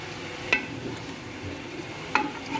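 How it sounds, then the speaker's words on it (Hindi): A spoon stirs beef and potato curry (aloo gosht) in a cooking pot, soft sloshing and faint sizzle with two sharp clinks of utensil against the pot. "इसको अच्छे से अब मिक्स कर लेना है।"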